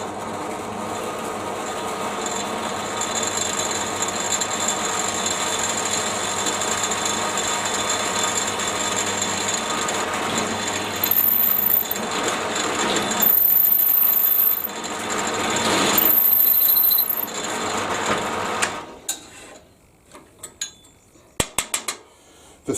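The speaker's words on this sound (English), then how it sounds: "So all I need to do is just simply drill a 6mm hole." Power drill boring a 6mm hole into a square wooden block for a bottle opener kit, a steady loud whine running continuously with brief surges before it stops and leaves a few sharp clicks.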